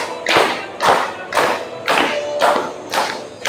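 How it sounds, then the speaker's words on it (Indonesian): Children in a classroom clap together in a steady rhythm, with six loud group claps about half a second apart heard up close, and no talking between them. "Yuk kita tepuk."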